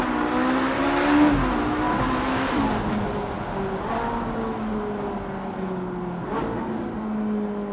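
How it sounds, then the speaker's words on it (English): A Ferrari 458 Italia engine revs and pulls hard, loud and close, with a shift and changes in pitch as it climbs and eases off, no voices over it. "this is one of the best engines ever created from Ferrari"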